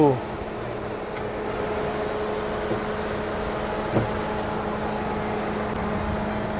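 A Suzuki XL7 Hybrid's 1.5-litre engine idles steadily at close range, a low even hum with a faint click partway through.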